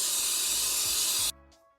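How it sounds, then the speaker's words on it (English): A continuous hiss of electrical contact cleaner aerosol spray for over a second, close and steady, then cutting off abruptly into near silence. "So this is a contact cleaner, electrical safe. I'm just going to spray it in here."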